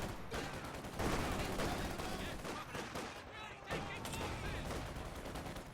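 Sustained MG42 machine-gun fire dominates a Company of Heroes 2 battle, a dense continuous rattle of bursts mixed with other gunfire and explosions, loud and close throughout, with some talking partly buried underneath.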